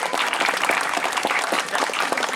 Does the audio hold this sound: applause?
yes